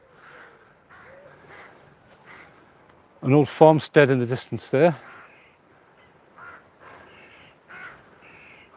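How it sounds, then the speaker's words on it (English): A cluster of crows caws loudly and frantically for a couple of seconds on a sunny coastal stroll at Alnmouth, Northumberland, with fainter caws scattered before and after and someone speaking briefly nearby. "Listen to those crows going mad."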